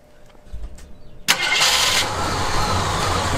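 A Jeep Wagoneer engine cranks briefly, then catches and fires into a loud, steady idle that settles and runs on close by, with no one talking.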